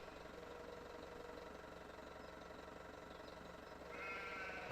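Sheep bleat in a farming video game over a steady idling engine hum, with a brighter engine or machine tone joining near the end.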